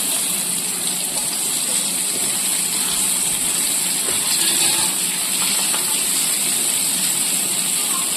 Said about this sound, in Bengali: এবার আমি আলুগুলো একটু ভেজে নিচ্ছি।